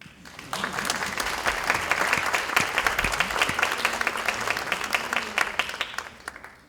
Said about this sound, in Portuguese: nada como ela receber os mais calorosos aplausos dessa nossa academia paulista